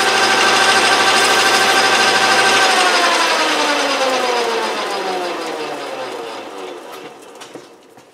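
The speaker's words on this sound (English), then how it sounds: "And I'll take some finer emery cloth to it," A lathe spins a threading dial part for a 1931 South Bend 11 while fine emery cloth polishes it, making a loud ringing whir. The tone falls as the machine winds down and fades toward the end.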